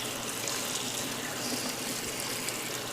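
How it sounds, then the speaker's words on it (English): Cool water runs steadily from a tap over food being rinsed, a continuous hissing splash at even loudness close to the microphone, with no speech. "I'm just going to rinse them thoroughly with cool water, tepid water"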